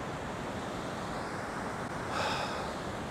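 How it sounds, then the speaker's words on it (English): Chunky ocean swell breaking on a calm, windless beach during a morning of beach whiting fishing: a dense, continuous wash of surf with a brief swelling rush near the end, no voices. "Pretty chunky swell too."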